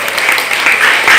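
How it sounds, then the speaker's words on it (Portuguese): Brief burst of audience applause during a classroom-style talk on poetry and textual genres, dense and steady clapping close by with no speech over it. "Palmas para o nosso herói aqui."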